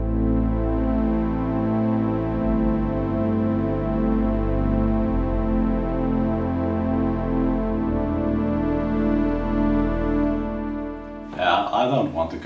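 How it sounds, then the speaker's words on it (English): Sustained chords played on a stereo synth patch in Surge swell and shift smoothly through several changes, with a short burst of talk near the end. "I laid down some chords in Reaper and using this stereo source paired by Lanthan"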